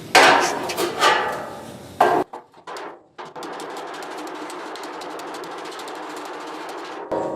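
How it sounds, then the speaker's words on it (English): A hammer and dolly shape sheet metal on the firewall and dash of a 1966 Mustang convertible, giving a few sharp close strikes followed by a steady grinding rasp. "then I'll use my hammer and dolly and get the angle that I really want"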